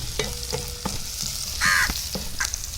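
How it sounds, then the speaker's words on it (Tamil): Sliced onions and halved green chillies sauté in oil in a pan for a cow pea kuzhambu, giving a soft frying hiss broken by several spoon scrapes and clicks, while a crow caws briefly in the background. "வெங்காயம் நல்லா வணங்கி வரட்டும்."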